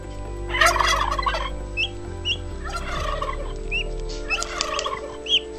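A turkey gobbles in three loud, rattling bursts, with small high chirps scattered between them over a steady low hum.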